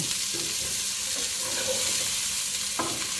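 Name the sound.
onions sautéing with salt in pan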